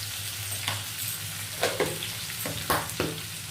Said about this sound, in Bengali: আলুটা একটু ভাজা ভাজা না হওয়া পর্যন্ত আমি এটা নাড়িয়ে দেবো।